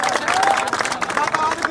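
Applause and clapping from a crowd at a school cricket final prize giving, a dense, steady patter of hands with crowd babble mixed in throughout.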